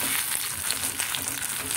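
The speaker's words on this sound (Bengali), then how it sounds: "সেদ্ধ আলুটা দিয়ে এবার আমাকে কিছুক্ষণ ভালো করে এখানে মিশিয়ে" Boiled potato being stirred into a hot frying pan for alur chop, with a steady close sizzle and a few soft scraping stirs throughout, no talking.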